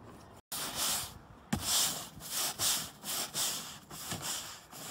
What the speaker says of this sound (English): Starting by scraping off all the remaining bits of the old roof coating.